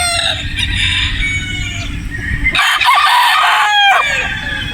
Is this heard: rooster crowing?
yes